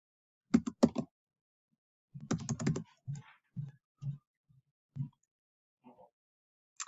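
Fast typing on a computer keyboard comes in quick bursts of close, crisp key clicks separated by short pauses, then a few isolated taps, in an otherwise quiet room.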